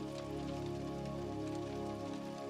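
Steady rain falls continuously, a dense even hiss over a low sustained tonal bed that may be soft meditation music, with no voices.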